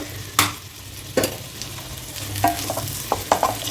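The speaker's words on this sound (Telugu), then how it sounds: "కొంచెం తొందరగా ఫ్రై అవుతాయి క్యాప్సికమ్ పీసెస్" Capsicum pieces frying in a pan with a little salt: a continuous sizzle under repeated scraping strokes of a spatula, several distinct knocks and clatters against the pan, close and fairly loud, no talking.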